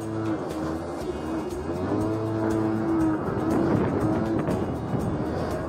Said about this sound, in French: calme-toi le scooter